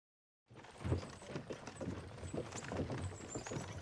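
Horses pulling a cart in Kingdom Come Deliverance II clop their hooves in a steady rhythm after a brief silence, joined by rolling cart noise at moderate loudness.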